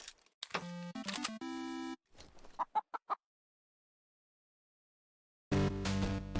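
Hens cackle and cluck in the puzzle video game Ells Tales Chicken. Loud bursts of clucking come in a short flurry, then fall silent, then return in a dense, noisy cackle near the end.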